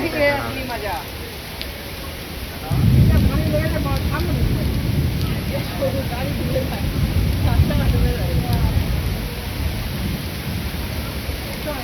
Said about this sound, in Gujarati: આખી શેરીમાં એટલો વરસાદ, અડધી 4 વ્હીલ ડૂબી ગઈ.